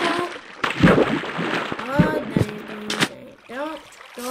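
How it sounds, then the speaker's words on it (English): Minecraft water splashes and sloshes in bursts while a voice talks over it, with a few bright chirping tones near the end. "Water is just too loud in my headphones."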